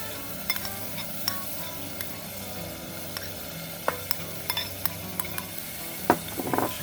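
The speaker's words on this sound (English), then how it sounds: "Just give that a little stir, down a little." Fresh oregano and minced garlic stirred into olive oil, a soft continuous sizzle with light scrapes and a few sharp utensil taps against the pan, close and quiet, without speech.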